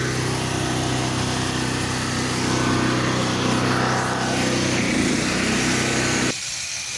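A pressure washer with a turbo nozzle runs steadily while touching up a residential driveway, its engine droning loud and constant close by before cutting off abruptly near the end, leaving a quieter hum.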